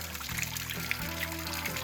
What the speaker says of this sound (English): Here we got this beautiful natural spring coming out of the side of the mountain